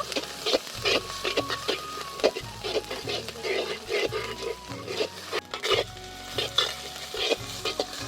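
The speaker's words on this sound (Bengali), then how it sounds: "এখন আমি এর মধ্যে আদা রসুনের বাটাটা দিয়ে দেব।" Ginger-garlic paste frying with browned onions in a pan: a continuous close sizzle punctuated by frequent spatula stirs and scrapes, fairly even in level.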